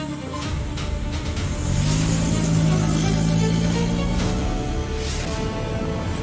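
A car engine revs up close, its throaty drone swelling louder around the second second, holding, then easing slightly as it runs on, with no voices.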